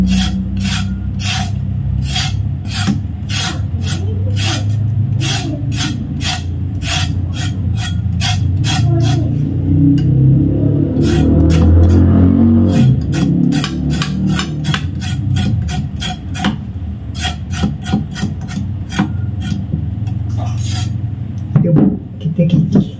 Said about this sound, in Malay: Sekarang lepas pada kita koyok, kita akan kikis ubi ni.